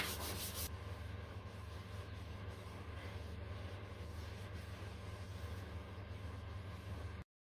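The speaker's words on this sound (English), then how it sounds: "It's just a case of hand sand it off and figure out where the rough bits are." Steady, close hand sanding across the engine bay of a Mk1 Ford Cortina GT under restoration, a continuous abrasive rub with a low hum underneath, running unbroken until it cuts off.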